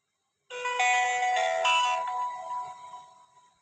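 A bright electronic chime plays after a short silence, a few melodic tones ringing out clearly and fading gradually, a KGTEL K372 mobile phone's startup tone.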